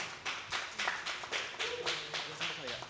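An audience claps at a community discussion event, a steady run of separate, close claps repeating in an even rhythm, with a voice murmuring faintly underneath.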